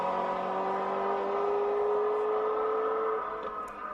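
A Ferrari with a 3.5-litre engine accelerates uphill out of a corner on a hill climb, a loud, sustained engine note holding a steady pitch before dropping away near the end.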